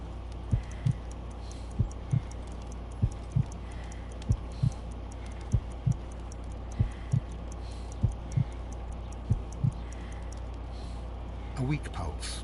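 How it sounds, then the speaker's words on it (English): Slow, regular heartbeat in the Sherlock Holmes Crimes and Punishments video game, about a dozen soft thumps spaced roughly a second apart over a steady low hum, with a brief rustle near the end. "I need to concentrate and count the heartbeats."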